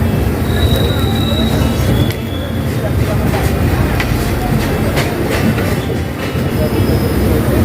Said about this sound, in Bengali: ঢাকার উদ্দেশ্যে ট্রেনটি ছেড়ে দিয়েছে